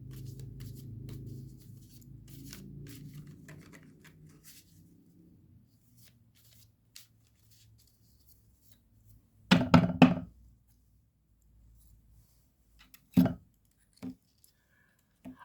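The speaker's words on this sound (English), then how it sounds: "I always cut the cards in 3 stacks going to the left." Tarot cards shuffled with a soft riffling rustle for the first few seconds, followed by quiet handling and then several sharp taps and thuds as the deck is cut into stacks on a table, close with no talk.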